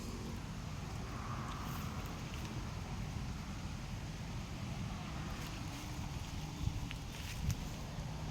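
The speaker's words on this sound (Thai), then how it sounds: "เป็นแต่ลมเลย" Wind blows across open, flat farmland being cleared for a new oil palm plantation, making a steady, low, rumbling buffet against the microphone with no one speaking.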